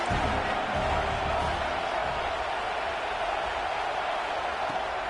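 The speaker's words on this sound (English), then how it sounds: "This crowd knows when to bring it." A video game football stadium crowd cheers in a steady, dense roar that stays loud and even across the whole stretch, with no clear peaks.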